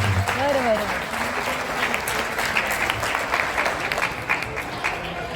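Audience applause at a Gudi Padwa celebration held by a Marathi cultural association in Tokyo, a steady dense wash of clapping throughout, with a voice speaking over it near the start.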